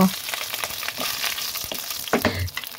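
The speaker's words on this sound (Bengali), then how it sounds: "দেখুন এখন মশলা সহ আলুগুলো ঢেলে দিচ্ছি, দিয়ে এগুলো নাড়তে নাড়তে সব মিশ্রণগুলো একত্রে মিশিয়ে নেব।" Potatoes with spices, cumin and bay leaf fry in hot oil in a pan for a meat-and-potato ghati dish, a steady close sizzle broken by scraping stirring strokes.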